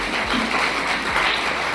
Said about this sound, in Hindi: इसलिए तालियां खुल के बजा लो।